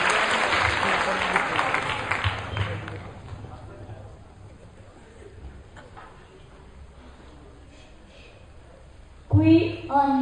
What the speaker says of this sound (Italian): Quindi un applauso ancora